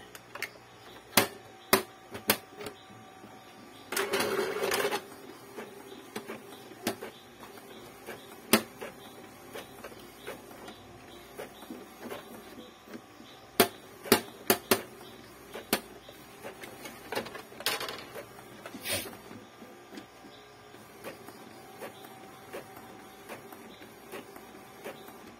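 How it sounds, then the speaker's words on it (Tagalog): An Epson L-series inkjet printer making a color photocopy runs with sharp mechanical clicks and ticks scattered throughout, plus a couple of brief whirring bursts from the feed mechanism, fairly quiet and close. "So, photocopy tayo ng colored."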